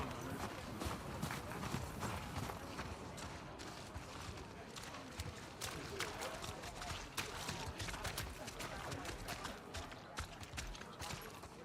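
Steady clip-clop of horse hooves in a video game (The Last of Us Part II) trots on at an even rhythm, close and fairly loud, with a low background rumble.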